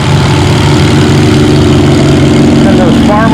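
A Farmall 300 tractor in the 5,000 pound, 3 mile an hour class pulling a sled at a tractor pull show, its loud, steady low engine roar continuous and close, with a voice talking faintly in the background.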